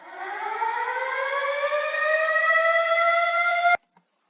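An alarm siren sound effect in an EDM track wails, rising slowly in pitch with rich harmonics, holding loud and steady for several seconds before cutting off abruptly.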